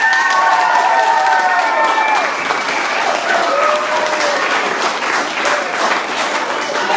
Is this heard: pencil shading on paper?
no